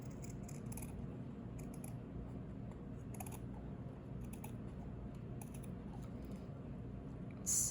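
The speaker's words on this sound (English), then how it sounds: "Snip, snip, snip. Now I'm going through 2 layers" Scissors snip through layers of paper on a handmade junk journal, a steady run of small crisp cuts close up over a low background hum, with no talking.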